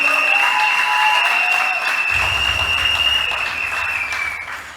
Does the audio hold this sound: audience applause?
yes